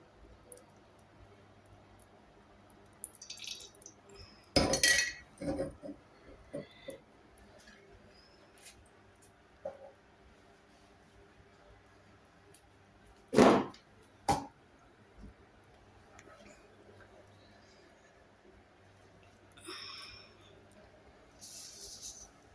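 Sparse pops and crackles, a couple of sharper bursts among them, scattered over a quiet low hum.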